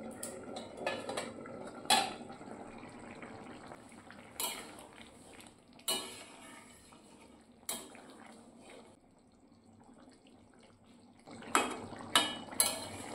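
A lid comes off a pot of simmering green jackfruit and potato curry with scattered metallic clanks and clinks. They are quiet and close, spaced over a soft background hum, and no one talks.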